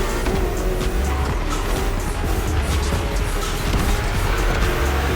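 A BMW in The Crew Motorfest drives hard with a dense, continuous engine roar and road rumble, mixed with occasional tire noise. It stays loud and steady throughout, with no voices.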